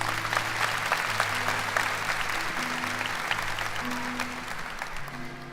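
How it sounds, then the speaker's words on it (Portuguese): A church congregation applauds God during a Catholic Mass homily, a steady sustained wash of many hands clapping at moderate distance, with faint tonal hum running beneath. "Vamos aplaudir o nosso Deus."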